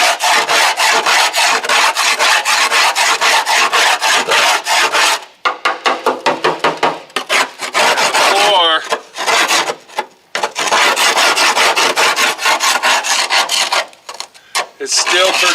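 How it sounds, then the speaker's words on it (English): Scraper grinding across the rusty metal floor of a square-body Chevy truck cab in loud, rapid back-and-forth strokes, broken by a few short pauses. "we're going to scrape the floor and see what it looks like"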